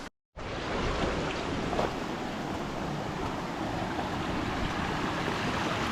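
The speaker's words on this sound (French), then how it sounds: "Traverser de la rivière" River water rushing at a river crossing on a Mafate trail on Réunion, a dense, loud, continuous roar that begins abruptly after a moment of silence.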